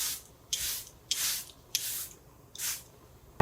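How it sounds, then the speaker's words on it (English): Makeup setting spray misted in four short hissing bursts, evenly spaced and fairly close, with a brief click at the end. "Do another layer of setting spray."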